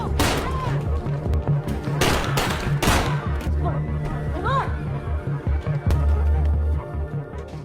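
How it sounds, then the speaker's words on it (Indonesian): Gunshots in a film shootout, a burst of several sharp loud cracks early on followed by scattered shots amid music and shouting voices, with a lower rumbling score underneath. "Danny lepas kontrol lalu menembak putra Pizarro."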